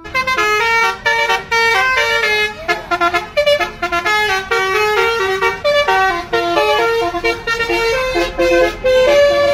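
Sugeng Rahayu bus blasts a basuri musical horn, loud multi-toned melodic honking playing a rapid tune in repeated bursts with brief gaps, close by on the road.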